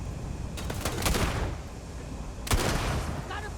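Grenade blasts in the Starfield video game, two bursts of booming, crackling explosion noise about a second and a half apart, with loud rumbling in between and no voices.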